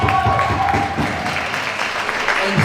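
An audience at a school book fair launch claps for a young author, a burst of scattered applause from a crowd mixed with chatter and a voice speaking over it.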